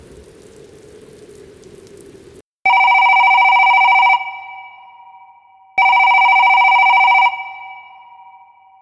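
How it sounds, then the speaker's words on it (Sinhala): A mobile phone in a pocket plays a loud electronic ringtone in two sustained bursts separated by a short pause, following a soft hiss. "සාක්කුවේ තිබුණු ෆෝන් එක රින් වුණා"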